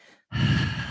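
A loud, breathy exhale during a Pilates mat leg exercise, starting after a brief pause and sustained steadily to the end, close to the microphone.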